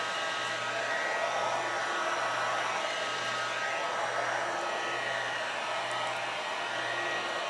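A heat gun blows a steady, even rush of hot air while shrink wrap tightens around a bar of soap, constant and close, with a low hum underneath and no talking.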